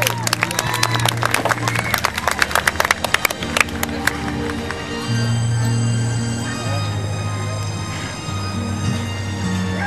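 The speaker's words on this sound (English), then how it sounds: "let's give our walking horse stake a big round of applause" Audience applause at a Tennessee Walking Horse show in Corbin, Kentucky, a burst of dense clapping that fades after a few seconds into a loud low hum and crowd murmur.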